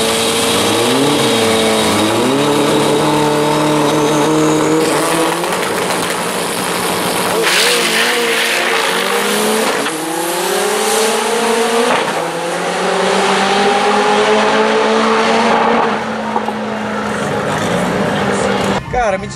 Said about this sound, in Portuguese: É um carro que anda com pneu slick, turbina nacional HX40, anda no álcool